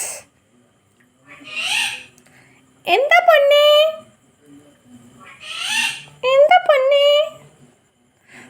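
A pet bird calls loudly and close in a kitchen, giving two bursts of harmonic, wavering squawks, each preceded by a breathy rasping sound, with quiet gaps between.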